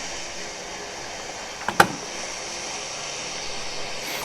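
An aircraft engine in the War Thunder flight combat game drones as a steady, hissing roar throughout, broken by a couple of sharp clicks near the middle.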